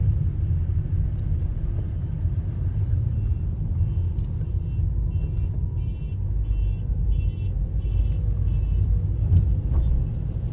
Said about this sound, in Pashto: په شا را روان و موټر غټ موټر